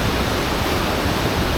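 Steady, dense rushing roar of a waterfall at Wensley in Yorkshire, heard close and continuous with no voices.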